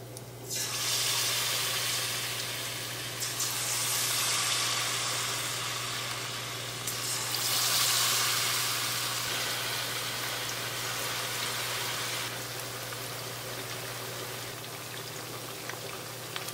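Breaded pork belly fries in hot oil with a loud, steady sizzle that swells and eases in waves, a constant crackling hiss over a low background hum.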